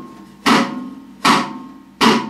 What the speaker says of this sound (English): A rim shot consists of basically just laying the stick across the drum